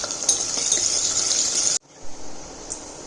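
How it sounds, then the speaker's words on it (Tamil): Green chilies, dried chilies and onions sautéing in a pan, a steady close hiss of frying with light stirring clinks that cuts off abruptly partway, leaving near silence with a couple of faint knocks. "பச்சை மிளகா, வத்தல், அதுக்கப்புறம் வெங்காயம் இதெல்லாம் போட்டு நல்லா கொஞ்ச நேரம் வதக்கணும்"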